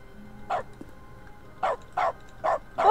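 Short dog barks stand in for typing sounds in The Stanley Parable video game, coming as five quick separate yaps, loud and close over a quiet low hum.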